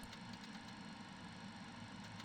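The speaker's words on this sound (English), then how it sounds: "And we'll turn off the engines." Engines of an Iberia MD-88 airliner in a flight simulator game, a steady low mechanical hum and rumble running evenly throughout at a fairly faint level, with no talk.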